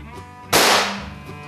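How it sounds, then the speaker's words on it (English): A Beeman P3 air pistol, fully cocked, dry fires with one sharp, loud snap that fades quickly amid quiet surroundings. "you can dry fire this pistol as well"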